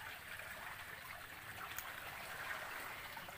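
Fresh water springs welling up into the sea, a steady broadband trickling and bubbling that stays even and fairly close throughout with no voices.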